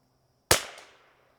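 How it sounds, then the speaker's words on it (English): A single rimfire rifle shot from a CZ 457 at an outdoor range, a sharp close crack with a short ringing decay and faint echo. "So let's just shoot at the top corner of this"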